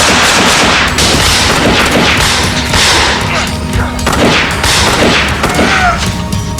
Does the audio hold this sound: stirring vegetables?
no